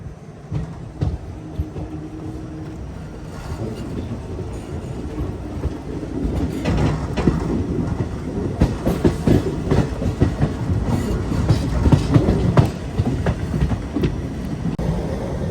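The Sai Nagar Shirdi to Tirupati Express running between Guntakal and Tirupati, heard as a continuous rumble of rail cars with clickety-clack wheel beats rising toward the end, steady and fairly close, with no talk.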